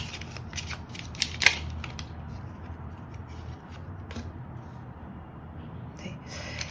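Tarot cards being shuffled and drawn give soft papery riffles and slides, with a few crisper snaps, close and fairly quiet throughout.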